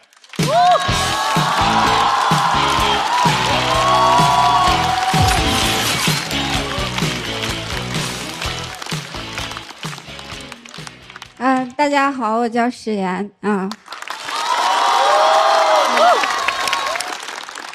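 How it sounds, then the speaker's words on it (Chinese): Audience applause and cheering at a stand-up comedy show, loud and steady over music. It pauses while a man briefly greets the crowd, then swells again. "掌声欢迎史岩"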